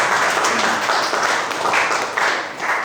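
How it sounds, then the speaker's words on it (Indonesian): A classroom group gives a short burst of applause for Cahyana during a teaching session, a brief patter of many hands clapping together for a few seconds. "kasih tepuk tangan dulu untuk Cahyana"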